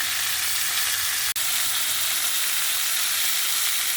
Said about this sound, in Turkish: Domateslerimi kızaran yönünü ters çeviriyorum.